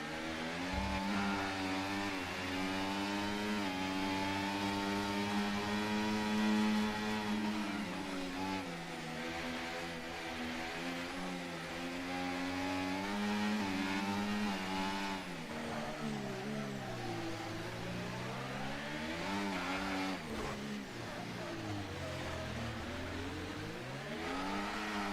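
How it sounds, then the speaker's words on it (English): Racing car engine in a Monaco Grand Prix sim racing game, revving continuously with rising and falling pitch through gear changes, loud and steady for the whole stretch with no talk over it. "Hear from the engine notes that Justin just cannot get that low gear"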